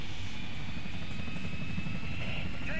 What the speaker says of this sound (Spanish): Viene el del helicóptero del Racing.